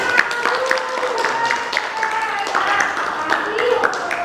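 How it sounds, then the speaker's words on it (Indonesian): A classroom group claps hands in a brief burst of loud, rapid claps, with a voice talking over them. "tepuk tangan."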